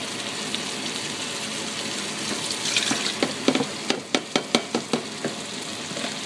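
Water pours steadily into a pot of Dominican stewed chicken over a background hiss, followed by a run of sharp, evenly spaced clicks.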